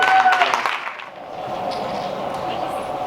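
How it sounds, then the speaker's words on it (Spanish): Audience applause for a panel of academic guests at a Zionism event, a steady wash of many hands clapping that follows a louder, busier opening burst. "Les pedimos un fuerte aplauso para todos."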